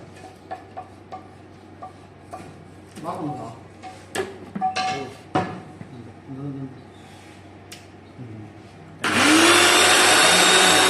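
A person talks over light kitchen clatter, then an electric mixer grinder loaded with coriander and spices starts with a sudden, loud, steady whirring roar that runs to the end.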